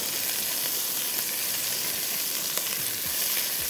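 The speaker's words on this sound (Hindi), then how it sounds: "थोड़ा इसको हमने अच्छा सा फ्राई करना है।" Minced meat (qeema) sizzles steadily in a hot pan with onion, a dense, even crackling hiss that fills the whole stretch without pause and with no talking over it.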